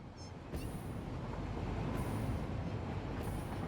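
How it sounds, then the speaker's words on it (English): A train in the Satisfactory factory-building game, the quick wire train, rumbling steadily along its rails with a broad continuous roar and brief high screeches, heard alone without talk. "In fact, that's the quick wire train."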